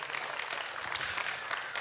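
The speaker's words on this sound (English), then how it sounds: "give these kids a big round of applause" Ringside spectators at a youth ewe show in a livestock arena give a dense, continuous round of applause, heard as a fairly even wash of clapping at moderate distance through the whole stretch.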